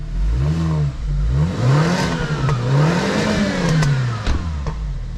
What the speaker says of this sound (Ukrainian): О, який звук, а ну газани.